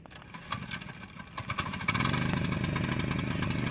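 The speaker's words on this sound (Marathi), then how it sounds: "तर आता ट्रॅक्टर चालू" A tractor engine on a village farm during rainy season, first a few uneven knocks and sputters, then settling into a steady close chugging idle.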